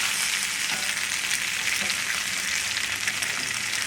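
Potatoes frying in a pan with sausage and sauerkraut, a steady close bright sizzle and crackle with a few soft stirring scrapes, no voices.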